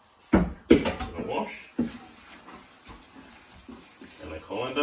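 Pak choi rinsed under a running kitchen tap, water splashing and spattering over the leaves with a few sharper bursts, close and moderately loud, brief talk mixed in.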